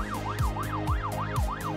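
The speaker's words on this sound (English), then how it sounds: "all the sirens and everything." European-style emergency vehicle sirens in the city-building game Cities Skylines 2: a quick, regular rising-and-falling wail repeats steadily over a low rhythmic pulsing backdrop, heard alone at moderate volume.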